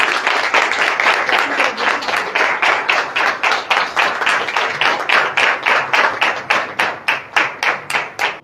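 Sustained audience applause fills a church service, steady clapping from many hands that thins toward the end into distinct, evenly spaced claps.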